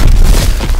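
A single heavy, booming explosion from a WW2 video game hits loud and close, a short deep blast that fills the moment.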